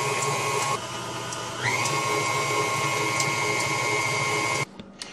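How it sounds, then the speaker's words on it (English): A stand mixer beats biscotti dough as eggs go in, a close, steady mechanical whine and hum with slight shifts in pitch before stopping abruptly near the end. "So now we're gonna add in our eggs while mixing,"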